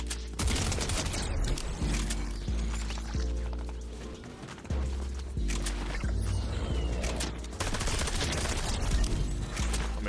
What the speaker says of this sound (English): Look how busted that SMG is.